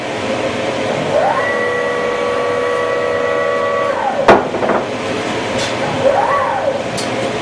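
A CNC machine gantry travels with a steady whine that ramps up, holds and ramps back down, over constant machine noise, with a sharp click midway and a second shorter move afterward.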